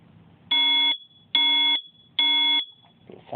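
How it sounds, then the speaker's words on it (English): An older Family Guard FG888D smoke detector sounds three loud, shrill alarm beeps in an even pattern, each about half a second long with short gaps between. "Fourth one we're going to do is an older Family Guard model"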